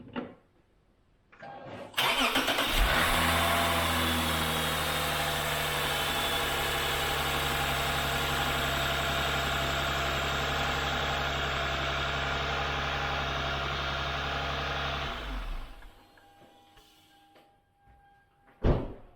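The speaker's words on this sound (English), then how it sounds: "I'm going to start the engine, see if there's any weird sounds." A 2006 Lexus IS350 engine cranks and catches after a serpentine belt replacement, then settles into a steady, smooth idle for about thirteen seconds before shutting off, recorded close in a quiet space.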